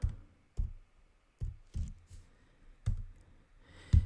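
Sparse clicks and taps on a computer keyboard, irregular keystrokes in small bursts with pauses between them, close and fairly quiet, no voices.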